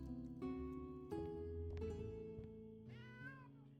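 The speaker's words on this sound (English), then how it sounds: "A cat has wandered into your tavern. I guess it lives here now." A cat meows several times in a tavern in the video game Traveller's Rest, a series of clear, close, tonal calls with brief pauses between them, heard alone without speech.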